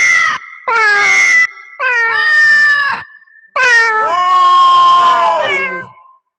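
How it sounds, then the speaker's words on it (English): Sampled cat meows play from a sampler in four loud, close, drawn-out wails, overlapping and tonal, with brief gaps between them. "that's with a group of cats there"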